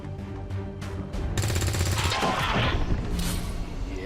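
Gunfire in XCOM 2 Long War 2: a loud broadband burst erupts partway through over a steady game music bed, with a sustained crackling, rattling tail rather than a single clean crack.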